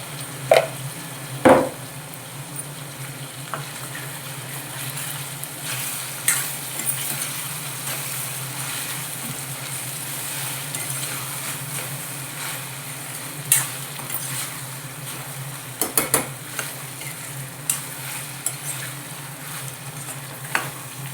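Brinjal curry with ginger paste sizzles in a pan while being stirred, a continuous low frying hiss broken by sharp scrapes and knocks of the spoon, close by with no speech.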